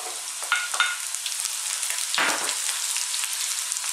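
Onions hit hot oil for vegetable fried rice, a bright continuous sizzle close by, with a few quick stirring strokes and one brief louder rustle as they are moved around.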